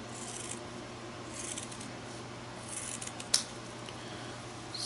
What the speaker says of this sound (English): We're just going to cut some circles. Do a few at a time.